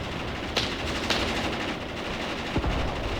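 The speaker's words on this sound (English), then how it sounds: "It looks like one of my 5cm mortars is getting involved. It's shelling the enemy column." 5cm mortars shelling an enemy column during a Graviteam Tactics battle, heard as a few sharp, distant thumps and cracks over a constant rumbling battlefield backdrop, with no talking.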